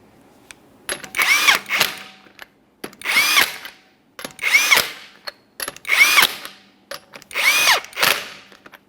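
Five evenly spaced bursts from a power tool snugging the lug nuts on a Toyota Sienna front wheel, each a loud, close, whirring rattle lasting about a second, separated by short pauses.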